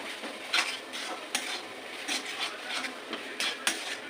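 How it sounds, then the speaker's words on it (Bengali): Carrot halwa cooked with milk is stirred in a pan, a spatula scraping and tapping against the metal in uneven strokes with occasional sharper clinks, close up and fairly quiet, with no talking. "এই দুধ দিয়ে নাড়াচাড়া করতে করতে আস্তে আস্তে চিট এসে যাচ্ছে"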